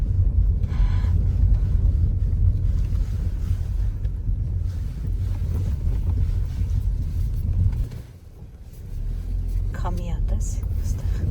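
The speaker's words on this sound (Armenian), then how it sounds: "Քամիա տես այստեղ" Wind blows hard outdoors on arrival at a forest under gathering clouds, a heavy, continuous low buffeting roar with a brief lull near the end, faint voices mixed in.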